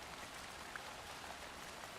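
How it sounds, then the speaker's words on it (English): Rain falls in the video game Alan Wake 2, a faint, steady hiss of drops spattering evenly on surfaces. "I love that rain."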